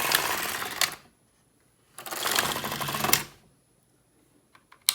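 A knitting machine carriage sweeping across rows, giving two loud rattling, clattering passes about a second long each, separated by silence, with a few light clicks at the end and no talking.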